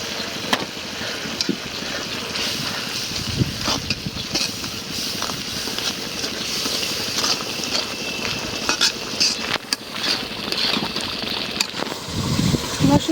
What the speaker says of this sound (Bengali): মশলাটা একদম ভাজা ভাজা করে নিলাম